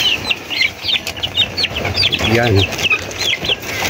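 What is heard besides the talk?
young chickens clucking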